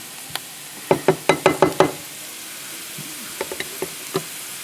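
Onions frying in a pan for mushroom spaghetti, the sizzle under a quick run of six sharp knocks like a spoon tapping the pan, then a few softer taps.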